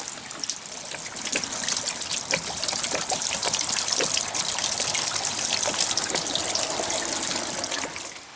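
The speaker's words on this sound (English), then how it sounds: "Water heater drained." Water gushes and trickles steadily as it drains from a Suburban SW6DE RV water heater, a continuous, fairly loud splashing flow lasting several seconds with no talking.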